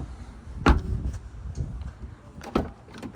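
Driver's door of a 2020 Holden Colorado LS, heard as one sharp, close clunk followed later by a pair of softer latch knocks, with no talking.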